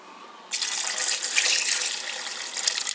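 Water poured from a glass into a cooking pot while swamp cabbage cooks, a steady loud rushing splash that starts abruptly and keeps going for a few seconds, close up, with no talking.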